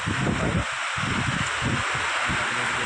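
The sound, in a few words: gusty wind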